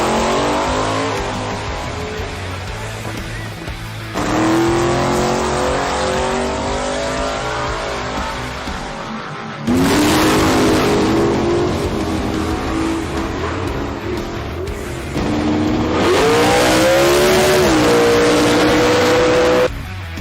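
A drag racing car in the Kenda 660 Drag Radial Series roars continuously down the track at Willowbank, Australia, its engine loud and close with rising revs and shifting, whining tones through the run.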